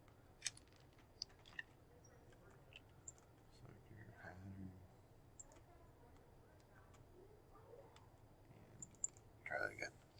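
Faint computer keyboard typing, a few sparse clicks and taps spread across a quiet room, with soft talk in places and a brief louder burst near the end.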